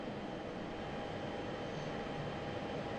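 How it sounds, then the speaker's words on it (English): A constant low hum of an F-16 jet engine taxiing in the DCS flight simulator, with even cockpit rumble and no changes over the stretch, heard without speech. "Dodge flight is taxiing to the active."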